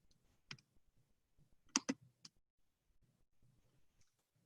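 A few sharp mouse clicks opening a link on a computer, one single tap followed by a quick cluster of clicks, close and crisp against an otherwise quiet room.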